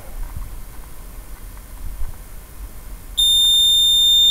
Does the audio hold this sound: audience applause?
no